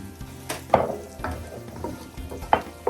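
Thyme and aromatics sauté in a pan for Jamaican-style steamed fish with okra in coconut sauce, a close sizzle broken by several sharp spoon scrapes and clacks against the pan.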